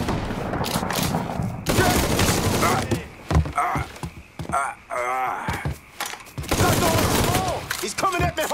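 Rapid bursts of gunfire in the Mafia 3 video game, loud and dense, with shots overlapping continuous shouted speech and combat noise throughout.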